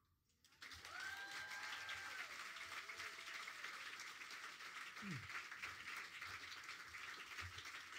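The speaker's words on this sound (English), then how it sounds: "Clap it up once again for Simon J. Keenan, man." Applause from a spoken word poetry audience in London rises suddenly after a moment of quiet into a sustained, moderately distant round of clapping with a few scattered voices mixed in.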